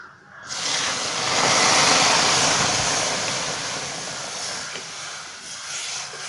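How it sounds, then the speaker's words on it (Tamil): Water hits a hot pan of dry-roasted moong dal for payasam, setting off a loud, steady sizzling hiss that swells and then slowly eases over several seconds. "இப்போ நான் இதில் தண்ணி சேர்த்துக்கிறேன்"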